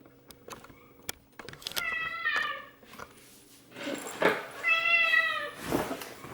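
Pet cats meow repeatedly for treats on an advent calendar at home during the Christmas season, with several drawn-out, insistent meows close by in a quiet room and no talking.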